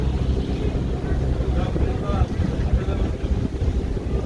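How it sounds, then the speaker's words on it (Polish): A ship passes near the port of Krynica Morska on the Vistula Lagoon, heard as a low rumbling drone mixed with heavy wind buffeting the microphone and choppy water noise, loud and continuous throughout. "jakiś statek płynie"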